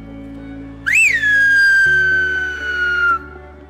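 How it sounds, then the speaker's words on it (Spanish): Long-distance whistled language, a single loud whistle that starts with a quick rising swoop and then holds a long, slowly falling note for about two seconds before stopping abruptly. "una mejor comunicación lo hacían a través del silbido a grandes"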